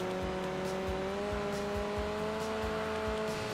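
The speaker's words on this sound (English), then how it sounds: "it's getting more aggressive intake sounds, more aggressive exhaust sounds." A race car engine in Enthusia Professional Racing drones steadily with aggressive intake and exhaust tones, a sustained rising hum heard fairly quietly with faint periodic thumps underneath and no talk.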